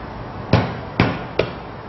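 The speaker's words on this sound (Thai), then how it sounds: "ตะไคร้เราก็นำมาทุบหน่อยนะคะทุบค่ะ" Lemongrass stalks get pounded to crack them for cooking: three sharp, close thuds spaced roughly half a second apart, each dying away quickly over a quiet room background, with no talking.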